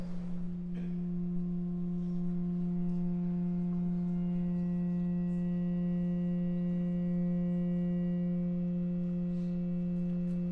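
A steady 176 Hz tone, close to the note F, is fed through a speaker to vibrate a Chladni plate. It comes out as a loud, continuous hum with strong overtones that holds unchanged throughout, with no talking.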